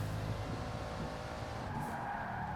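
A Bugatti Divo in Forza Horizon 4 scrubs its tires through a corner with understeer, a sustained squeal over steady engine drone, close and unbroken, the pitch of the squeal rising near the end.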